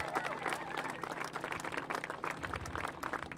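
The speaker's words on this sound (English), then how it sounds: "Let's give them a round of applause for hosting us." Audience applause for state legislators hosting a governor's renewable energy event, heard as a fairly faint, steady patter of clapping from a modest crowd, with a rustling, uneven texture throughout.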